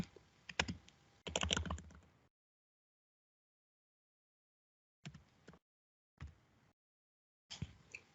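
Typing on a computer keyboard during Azure SQL setup: a quick burst of close key clicks, then silence, then three short separate clusters of keystrokes.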